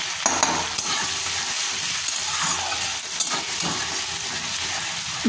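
Half a teaspoon of turmeric powder fries in oil in a pan over low to medium heat, a soft continuous sizzle with scraping stirs, fairly quiet and without speech.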